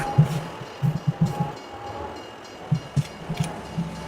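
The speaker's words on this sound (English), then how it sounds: "you hear a train going by every once in a while" Rail traffic passing a player-built city beside the track in Farming Simulator 2022, heard as a steady rumbling bed with repeated low rhythmic wheel clunks and clicks, fairly close and without speech.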